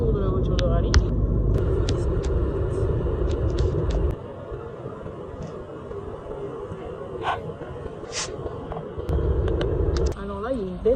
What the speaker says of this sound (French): Le retour de la voiture de rallye.